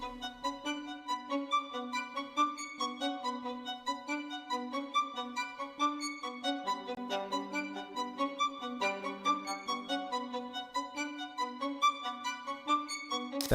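Spiccato violin from a Kontakt bank plays a fast, bouncy pattern of short bowed notes in a steady rhythm, clear and continuous without voices.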